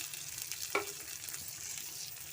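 Onions fry in a pan with curry leaves for poha, a steady soft sizzle running throughout with a single brief clink of the spoon; moderately quiet and close, no talking.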